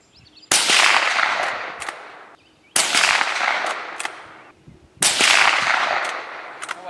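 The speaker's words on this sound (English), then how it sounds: "first up we got a 22 long rifle. I'm going to take 3 shots with it." Three shots from a .22 long rifle fired at a railroad tie plate, evenly spaced about two seconds apart, each a sharp loud crack followed by a short decaying tail, with nothing else in between.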